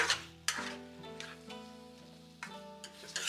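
Chicken and cucumber stir-fry sizzles in a pan as a cornstarch sauce is stirred in, with a few quick, fairly quiet scraping and clinking stirs over a soft hiss.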